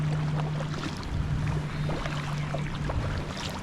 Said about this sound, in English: A little bit of boat chop.